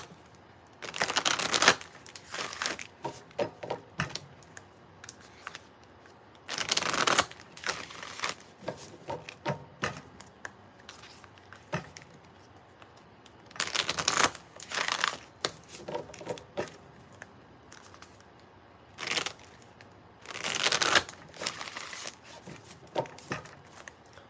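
Bursts of riffling playing cards, each shuffle a quick ruffling flutter, repeated about five times with short pauses of quieter handling between, close and clear.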